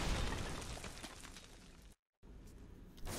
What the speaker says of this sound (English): if you're too close to the explosion, you can damage yourself as well as allies